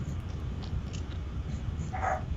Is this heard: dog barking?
yes